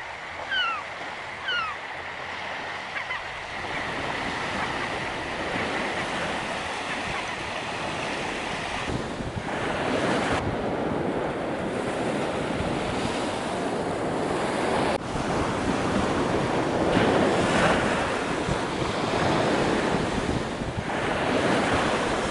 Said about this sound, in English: The ocean was getting rougher by the hour. The storm was coming in.